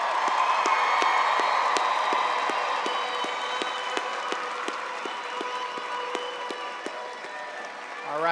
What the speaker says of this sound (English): Let's give Abigail one more round of applause.